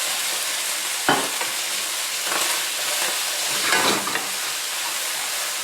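Hot oil sizzles in a pan while tuna steak cooks, a steady broadband hiss with a sharp clatter near the start and a brief surge of crackling later, no talking.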